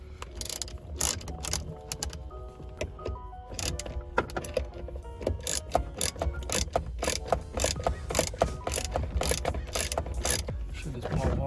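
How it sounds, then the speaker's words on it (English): Hand ratchet backing out 10 mm bolts holding the airbag on a 1990 Mazda Miata, a close series of sharp rapid clicks and metallic clunks in uneven bursts, with brief faint talk. "there's 4 bolts that we got to take off"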